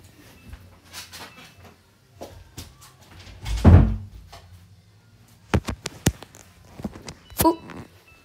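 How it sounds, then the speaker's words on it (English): A door being shut indoors: shuffling and a loud thump as it closes, followed by several sharp knocks and clunks, near and distinct with no talking. "Let me shut the door."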